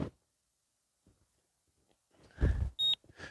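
Fishing bite alarm sounding once as it is switched back on, a short sharp electronic beep following some faint handling noises nearby.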